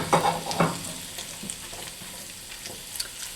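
Red potatoes drop into melted butter in a pan with a couple of soft clunks and a quick burst of sizzle, then settle into a faint, low, steady frying hiss.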